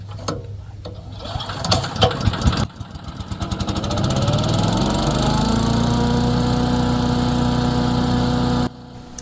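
A Champion 3-inch wood chipper's small engine is pulled to start, sputters, then catches and runs at a steady loud drone before cutting off.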